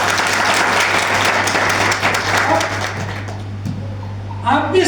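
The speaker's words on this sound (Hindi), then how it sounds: "ताली बजा दो इसके लिए" A church congregation at a Sunday service claps loudly and continuously for about three seconds, then the applause thins out into scattered claps and a voice at the end.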